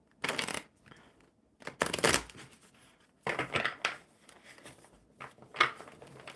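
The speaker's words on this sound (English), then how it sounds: "Oh my gosh, I suddenly forgot how to shuffle." Playing cards are shuffled by hand at a card table, with several separate bursts of riffling and bridging spaced across a few seconds and brief pauses between them.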